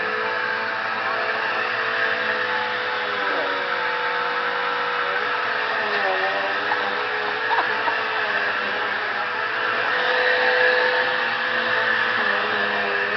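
A vacuum cleaner runs steadily with a broad, constant motor whir and airflow roar, its pitch wavering slightly as it moves, close and alone without talk.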